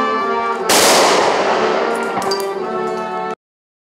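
Ceremonial gun salute fired after the national anthem at a memorial gathering, a loud sustained burst of crackling reports lasting a few seconds and then cutting off abruptly.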